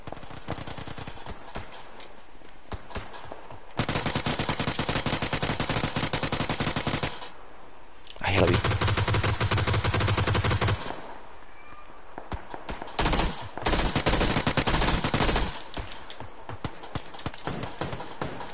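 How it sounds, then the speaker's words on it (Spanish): Rapid automatic gunfire from the shooter game PUBG Battlegrounds rattles out in long, loud bursts separated by brief quieter gaps, with a few shorter volleys near the end. "Escucho los disparos, pero no los veo."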